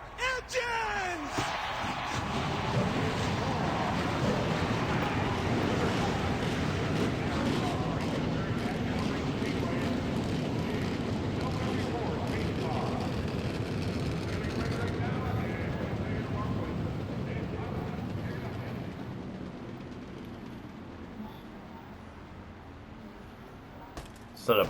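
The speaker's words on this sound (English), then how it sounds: "Gentlemen, start your engines!" A field of 40 stock cars fires up at the start of the Peak Antifreeze 400 at Dover in a racing video game. The engines become a loud, sustained roar that holds for about fifteen seconds, then gradually thins and fades.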